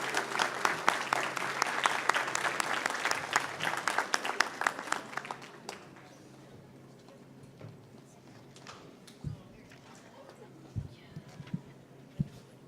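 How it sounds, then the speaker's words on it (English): An audience at a school district board meeting applauds the school board, a dense burst of clapping for several seconds that cuts off abruptly, followed by a quiet room with scattered thumps and faint voices. "join me as we give them a big round of applause to this year's school board"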